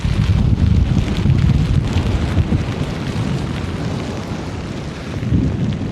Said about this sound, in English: It's just too windy, too much rain.